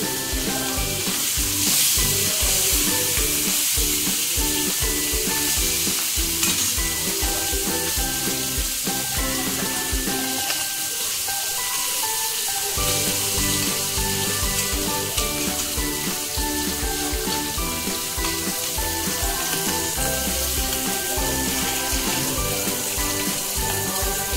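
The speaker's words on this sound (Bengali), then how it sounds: "মাছটা ছেড়ে দিলাম। প্রথমে মাছটা ভেজে নেব।" Puti fish frying in a hot pan of oil for a light fish curry, a dense, steady sizzle and crackle that fills the whole stretch at close range, briefly dipping before resuming at full strength.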